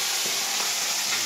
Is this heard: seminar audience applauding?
no